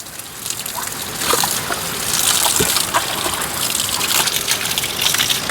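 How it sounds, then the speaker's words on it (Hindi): Water gushes steadily from a mountain spring spout, a loud, constant rushing and splashing flow close by, with no one speaking. "चारों तरफ से ऐसे पानी बहने की आवाज़ आती है"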